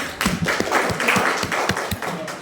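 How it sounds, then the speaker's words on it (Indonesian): Parents at an elementary school meeting applaud for class 1, a close, loud burst of mixed clapping with some distinct individual claps standing out. "Tepuk tangan untuk kelas 1"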